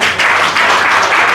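Loud, continuous applause from a crowd at an awards ceremony, a thick wash of clapping hands that holds steady with slight swells.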